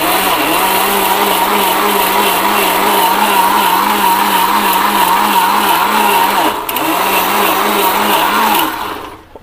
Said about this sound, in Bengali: আপনি চাইলে পরে ব্লেন্ডারটা অন করে দিয়ে অন্য কোনো কাজ করতে পারবেন